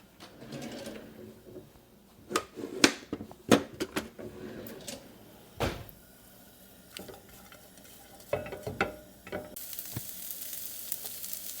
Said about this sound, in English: Our celery and onions now have sauteed a bit.